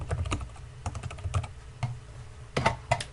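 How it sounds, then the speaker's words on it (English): Typing on a computer keyboard: irregular bursts of key clicks, close and fairly quiet, with a denser flurry of keystrokes near the end and no talking. "I'll click and then of course just type in the text."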